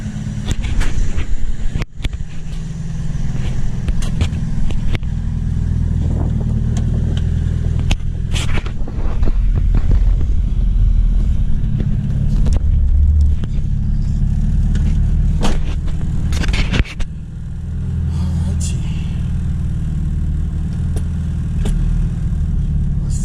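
A turbocharged Honda Civic with a B18C engine runs and drives steadily, a low rumbling drone with occasional revs and clicks, heard from inside the car.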